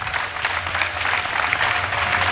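Church congregation clapping together, a steady dense wash of many hands applauding at moderate loudness throughout, with no speech over it.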